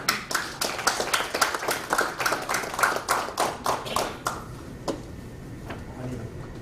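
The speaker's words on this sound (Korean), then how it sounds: "여러분 나오실 때 큰 박수로 환영해 주시기를 부탁을 드립니다" A small audience claps to welcome a former Methodist bishop to the podium at a March 1st Movement centennial lecture, crisp separate claps in a loose rhythm that thin out and stop after about four seconds, leaving a quiet room.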